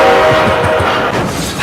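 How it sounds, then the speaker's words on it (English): A train roars past with a dense, loud rushing rumble and a steady horn tone in the first part, filling the whole stretch without talking. "that train came hard and fast today"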